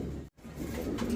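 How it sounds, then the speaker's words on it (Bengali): A pair of black Morasil pigeons coo softly at a pigeon sale centre, low throaty cooing broken by a brief silent gap before resuming close by. "এখানে এক জোড়া ব্ল্যাক মোরাসিল কবুতর"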